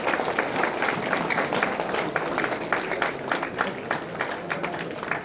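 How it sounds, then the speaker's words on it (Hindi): An audience at a Maulana Abul Kalam Azad Jayanti celebration claps in a steady, dense round of applause that holds at an even level for several seconds. "तालियां मारो भाई, आप लोग के उस्ताद है।"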